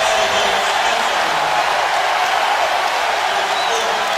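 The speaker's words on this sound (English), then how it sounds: "Listen to the crowd here at Ole Miss." The crowd at an Auburn vs Ole Miss college basketball game roars and claps in a continuous, loud, wide wash of cheering that holds steady throughout.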